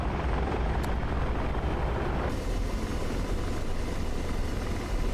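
An AH-64 Apache helicopter in the DCS flight simulator, its loud continuous rotor and turbine roar filling the cabin during a slow landing approach into the wind, with a slight shift in tone partway through.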